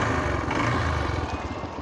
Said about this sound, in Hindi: ये इस मोटरसाइकिल का साउंड नोट है,